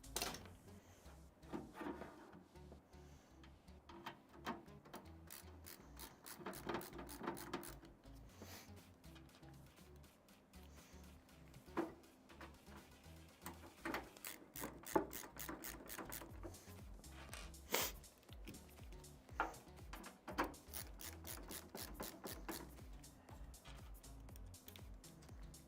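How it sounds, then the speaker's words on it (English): Case fans are screwed into a PC build with a ratcheting screwdriver: quiet bursts of rapid clicking ratchet strokes, interrupted by short pauses and light handling knocks, close up. "Let's get these fans bolted in."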